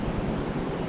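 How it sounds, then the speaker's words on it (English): A steady, low rumble comes from the Kunene River waterfall close by. It is a continuous broadband roar with no breaks and no voices. "waterfall rumble in the background, that's because we are right next to the Kunene River"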